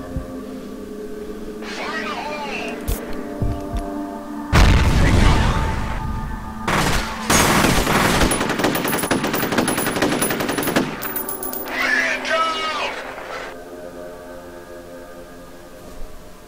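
Rapid automatic gunfire from the video game F.E.A.R. rattles in loud sustained bursts, with single shots and booms between them, mixed with game dialogue and a player talking.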